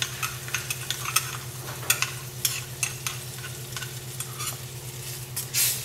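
Caponata being gently stirred in a pan after vinegar and honey go in, a soft steady scraping and sloshing with light sizzle and a low background hum, no talk.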